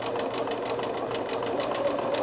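A sewing machine stitching a quilt block Y-seam with a quarter-inch seam allowance, a steady rapid mechanical whir with a fast needle pulse, close and alone.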